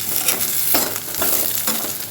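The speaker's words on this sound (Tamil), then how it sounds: "வதக்கிட்டு இப்போ பச்சை மிளகாய் போட்டுடலாம்." Onions and green chillies sautéing in a pan for Chennai chicken biryani: a steady close sizzle with periodic stirring scrapes, no voices.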